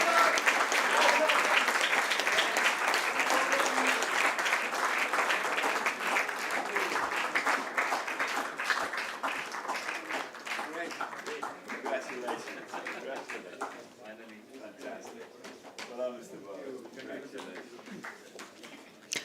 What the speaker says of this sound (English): Come on, everyone, the claps must go on.